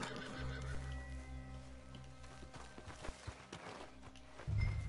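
Horse neighing in the video game Red Dead Redemption 2, with a whinny over game ambience, clip-clop hooves and footsteps, and a louder low burst near the end.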